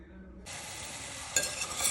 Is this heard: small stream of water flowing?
no